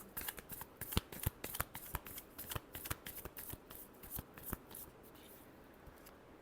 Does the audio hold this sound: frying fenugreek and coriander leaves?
no